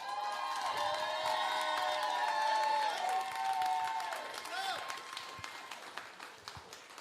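Audience at a live podcast taping in Los Angeles claps and cheers with whoops and shouts, loud at first, then thinning to scattered claps toward the end.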